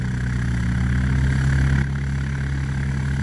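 A Janus motor glider's engine runs steadily at a loud, constant drone, likely during the takeoff run, close to the listener with no break in pitch and no voices over it.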